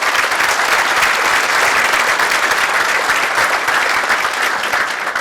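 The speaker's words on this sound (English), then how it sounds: "Let's give them a round of applause." An audience at a road-industry conference welcome address claps in a loud, dense, continuous burst of applause that holds steady for the whole stretch, with no voices over it.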